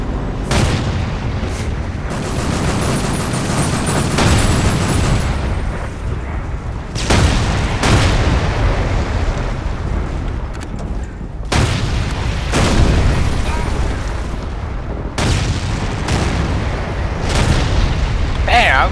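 Panzer tank fire in a German front-line infantry war video game brings loud, heavy booming blasts that recur every few seconds over continuous rumbling battle noise, with voices in the mix.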